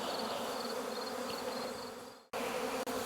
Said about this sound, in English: the amount of bees that are flying around me and flying around that trailer right now is a little gnarly